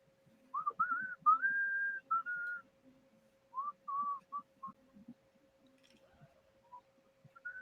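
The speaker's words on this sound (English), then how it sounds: "Somebody's whistling." A person whistles a short tune in clear phrases of bright sustained notes, close and fairly quiet, with pauses between phrases and a faint steady hum underneath.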